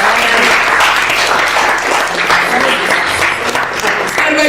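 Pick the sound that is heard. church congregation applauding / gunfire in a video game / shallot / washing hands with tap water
church congregation applauding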